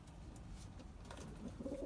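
Pigeons or doves coo softly inside a coop, a faint, low, brief burst of calls rising near the end.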